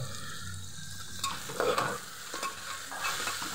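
Chopped onion and salt are stirred in a pan, with a quiet frying sizzle under scraping spatula strokes that swell briefly at intervals, close by and fairly soft.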